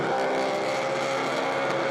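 A supercharged 460 big block race engine on methanol carburettors holds a loud, steady roar at constant peak revs, dense and unbroken throughout with no change in pitch.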